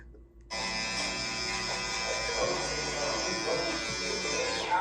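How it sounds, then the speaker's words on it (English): An electric hair trimmer buzzes while blending a haircut during a barbering class. The steady, close, high-pitched drone starts after half a second and runs without a break to the end. "And go back with the trimmer."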